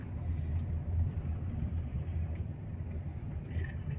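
A car driving along a road, heard from inside as a steady low engine rumble and road noise throughout, with no talking.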